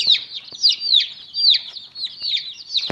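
A Gurk hen with her roughly 20-day-old chicks keeps up steady clucking with bright chirps and peeps layered on top, close and fairly loud throughout, with a sharp tap near the end.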